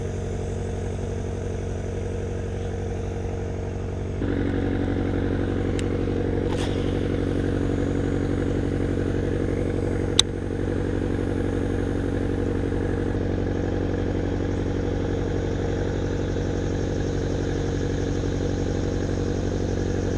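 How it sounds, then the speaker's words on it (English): A pump runs loudly and steadily on a river fishing boat in low summer water, a constant mechanical drone with idling-engine clatter that grows slightly louder partway through and continues alone, with a couple of brief clicks. "Hopefully this pump ain't making too much noise where you guys can't hear me"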